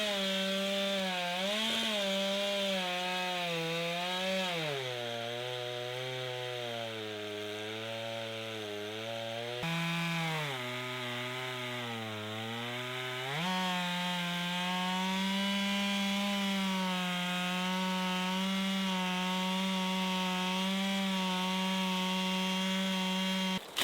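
Chainsaw milling a log outdoors roars loud and continuous, its engine pitch dipping and rising as it bogs under load and revs back up, droning on without pause.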